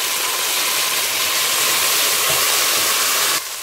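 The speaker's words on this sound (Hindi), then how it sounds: "आप इसमें मीट डालें और इसे अच्छी तरह से भूनें।" Boiled meat being fried with browned onions in a pot for Behari biryani, giving a loud, close, continuous sizzling hiss that drops slightly near the end, with no talking.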